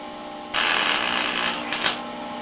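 A short burst of harsh, crackling hiss from finish welding a custom jerry can holder lasts about a second and a half and ends in a couple of brief sputters, close and fairly loud.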